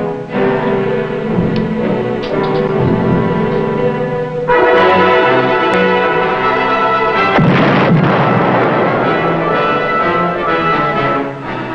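A submarine fires a torpedo that explodes against an enemy ship in a naval war setting. A sudden loud blast is followed by a second heavy, rumbling explosion, set under a continuous dramatic orchestral score.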